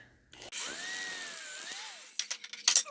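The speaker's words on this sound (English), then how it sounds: "This drill bit I'm using is a 1/4 inch drill bit." A short burst of a power drill with a quarter-inch bit spinning up and biting into wood for a railing, its whine wavering for about a second and a half, then scattered clicks and rustles.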